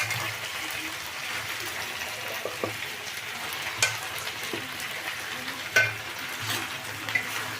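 Tomatoes frying in a pan with ginger garlic paste, a moderate sizzle under occasional sharp clinks and scrapes as the mixture is stirred and added, with a faint voice in the background.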